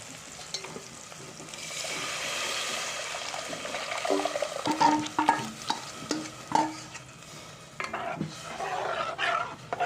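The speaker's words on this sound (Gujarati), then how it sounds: "હવે આપણે આમાં નાખી દઈશું આ બાફેલી દાળ." Thick boiled toor dal poured into a hot pan of tempering, followed by wet sloshing and several sharp stirring clatters against the pot, close by.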